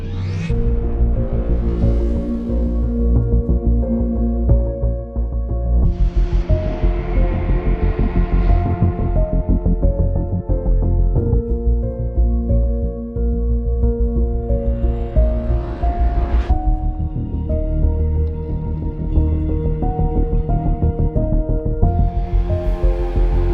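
Dense, sustained electronic sound design from the Gravity 2 sound FX engine, a thick droning rumble with tonal layers and periodic rising whooshes and swells, loud and continuous without any talk.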